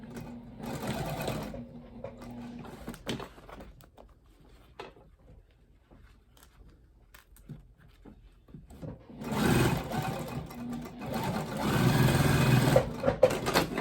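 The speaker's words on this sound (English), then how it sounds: "So I like to backstitch a ton on birthing holes." A sewing machine runs in bursts while backstitching a seam on a crossbody bag, a steady mechanical whir that stops and starts, with quiet handling sounds between runs and a longer, louder run at the end.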